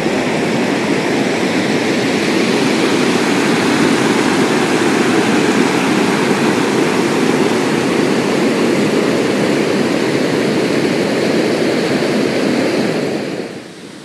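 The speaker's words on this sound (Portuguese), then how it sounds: "Esta aqui é a segunda grande cachoeira" A large waterfall at Cataratas dos Couros in Chapada dos Veadeiros, Alto Paraíso de Goiás, produces a loud, constant roar of falling water, unbroken and dense for the whole stretch before dropping off abruptly at the end.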